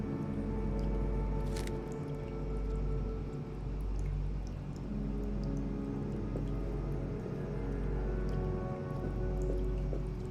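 Heavy rain pours steadily into a well in the video game Heavy Rain, a dense, continuous wash of water with scattered drips and splashes and a low rumbling undertone.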